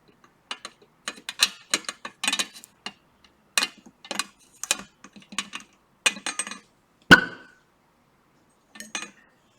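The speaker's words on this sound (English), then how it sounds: "With hydrogen, we get a pop sound." A run of light clicks and scrapes, then one sharp, loud pop as a burning splint ignites hydrogen, ringing out briefly, followed by a few more faint clicks.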